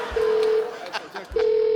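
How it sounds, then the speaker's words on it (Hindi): A telephone rings on a comedy show stage, sounding a steady electronic tone that stops briefly and then starts again, with brief noises in the gap. "फोन आ रहा है"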